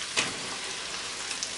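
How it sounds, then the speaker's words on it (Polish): Chicken liver and softened onion fry over high heat in a pan, giving a steady, even sizzle and hiss with a few faint pops throughout. "I smażymy 10 minut na dużym ogniu."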